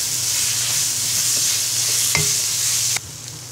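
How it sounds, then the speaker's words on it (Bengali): Ground turmeric, chili powder and onion paste fry together in a pan, giving a close, even sizzle with an occasional spatula scrape, one sharper clack near the end and a sudden drop to quieter frying. "এবার সব মশলাগুলো ভালো করে ভেজে নিব।"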